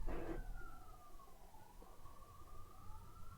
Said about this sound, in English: There's a second ambulance on top of the first one now, in the background.